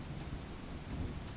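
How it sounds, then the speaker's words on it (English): Heavy storm rain pours down in a dense, steady hiss that fills the brief moment, with a low rumble underneath and no voices. "It's been thundering and raining."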